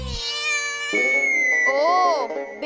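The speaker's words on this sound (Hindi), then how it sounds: "बिल्ली की आवाज थी, वही होगी।" A cat meows in a few drawn, wavering cries. The first cry is long and high, and a bending, caterwaul-like call follows, heard clearly at close range.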